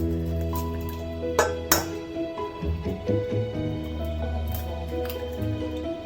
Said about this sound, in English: Break 6 to 8 eggs in a mixing bowl.